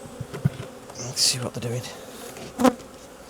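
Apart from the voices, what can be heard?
honey bees buzzing around an open hive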